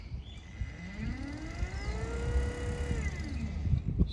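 A repaired Minn Kota Ultrex trolling motor runs with a steady whirring drone, its pitch sliding up and then back down amid low rumbling background noise.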